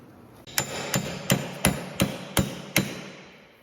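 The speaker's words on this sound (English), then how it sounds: "I got a 34mm socket on there. I mean, hammered it on with rust." A 34mm socket is hammered onto a rusted rear axle nut on a 2013 Kia Sorento, with seven sharp metallic blows struck at an even pace, loud and close and no talking.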